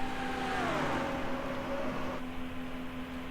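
Stock cars at Homestead after a green flag restart, engines droning steadily at a distance with one car's pitch sliding down as it passes.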